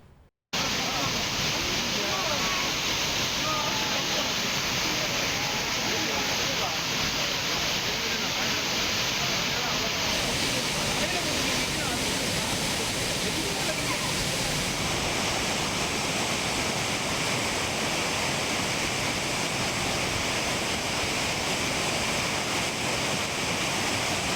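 Courtallam waterfalls in Tenkasi roar with a steady, loud rush of falling water that fills the whole scene without letup.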